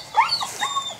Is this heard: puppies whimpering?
yes